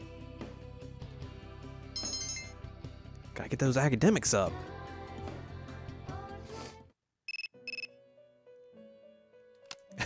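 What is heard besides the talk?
cell phone ringing in the video game Persona 3 Portable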